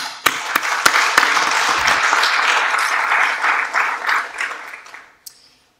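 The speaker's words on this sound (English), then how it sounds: "So let's just have a quick round of applause for them" A quick, loud round of applause from a conference audience at an energy-disaggregation workshop, several sharp claps up front swelling into a dense sustained burst that fades out after about five seconds.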